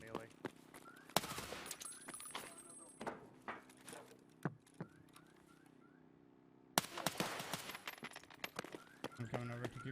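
Gunfire in the Escape from Tarkov video game: clusters of sharp shots and short bursts break out repeatedly, with a brief lull midway, heard alongside game sounds and occasional voices.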